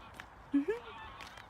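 A short nasal, duck-like bird call sounds twice in quick succession over faint background noise.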